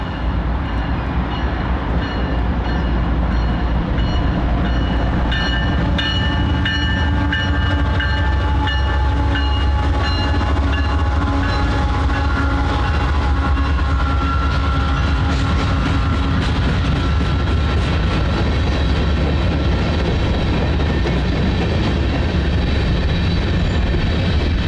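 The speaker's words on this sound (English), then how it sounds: "I documented eastbound coal train 553 with 2 CP motors at Toledo's Amtrak station" Eastbound coal train 553 led by two CP locomotives rolls past Toledo's Amtrak station, a loud, steady rumble of engines and rail cars lasting throughout with no pause.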